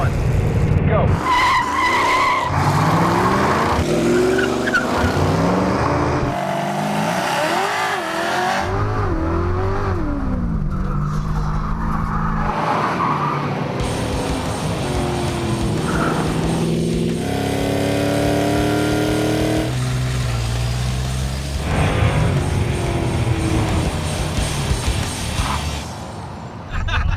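Drag race cars including a Super B, El Camino and Ranchero launching and accelerating, loud engine roars rising and shifting with tire squeal, several passes overlapping, while people talk over the noise.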